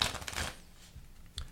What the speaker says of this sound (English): I'm going to give it a quick shuffle here.